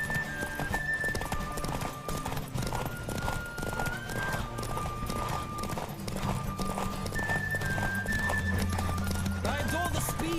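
Horse hooves clip-clop at a steady galloping rhythm in The Witcher 3, loud and continuous under game music with occasional voices, alongside a brief whinny.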